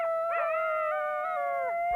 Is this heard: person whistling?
no